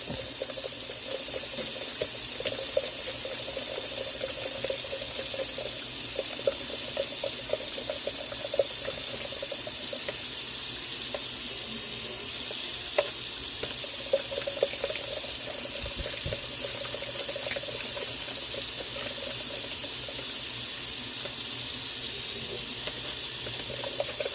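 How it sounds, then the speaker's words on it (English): Hot water is poured slowly and steadily into flour, a continuous running-water trickle with faint clinks, close and even throughout. "I'm going to slowly add that water because I want to start stirring briskly to get my lumps out."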